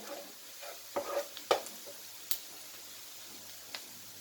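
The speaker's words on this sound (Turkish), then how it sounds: "Şimdi sarımsağımız da birazcık kavrulsun." Soft, steady sizzling of garlic frying in a pan, with occasional sharp clicks and scrapes of stirring.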